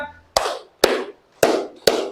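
Four sharp hand claps ring out at an even, deliberate pace in a classroom clapping game, each clap crisp and close with a short decay, no talk over them.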